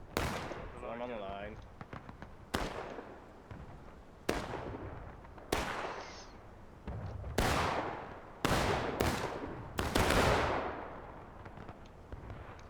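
Sharp, loud gunshots ring out one after another at uneven intervals during a Blue and Grey battle event, each with a short echoing tail, while a voice talks between them.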